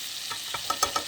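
Salmon cooking skin side down in a pan gives a soft, steady sizzle, with a few faint taps and scrapes near the end as the fish is handled.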